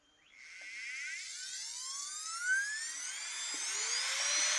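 A small handheld micro motor with freshly replaced brushes spins up to 45,000 RPM, a high, steady, piercing whine that climbs in pitch after switching on and holds continuously, close and alone.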